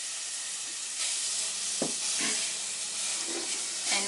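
Paneer frying in ghee and masala in a hot pan, a steady bright sizzle with a few soft stirring scrapes and bumps, close and alone without voices.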